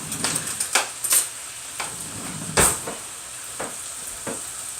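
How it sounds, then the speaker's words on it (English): A spoon mixing thick Texas hot chili sauce in a container, soft scraping and stirring strokes repeating irregularly up close, with a few sharper clinks against the side. "See how I mix one corner at a time"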